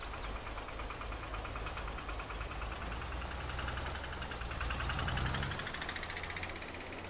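A tractor engine in Farming Simulator 22 hauls a loaded trailer through muddy fields, a steady mid-pitched drone that swells slightly before easing, with no voices.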